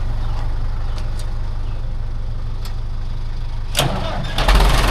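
An 82-horsepower John Deere tractor's diesel engine cranks and rumbles with a steady low drone, then revs louder near the end, close by.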